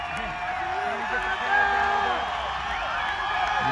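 A crowd cheers and shouts at a boys soccer penalty shoot-out, a lively but fairly distant murmur of whoops and calls that swells midway, while a voice talks close over it.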